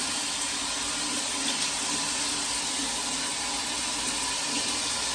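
Shower water running in a hotel bathroom, a steady, continuous spray and hiss at even loudness throughout, with no talking.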